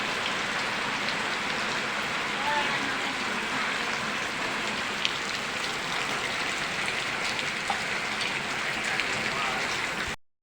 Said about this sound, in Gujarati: જો મિત્રો જોરદાર વરસાદ પડે છે.